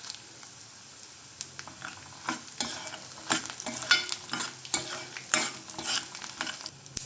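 Dried red chillies, cumin and mustard seeds fry in hot oil for tempering, a soft crackling sizzle with irregular spoon stirs and small pops that grow busier toward the end.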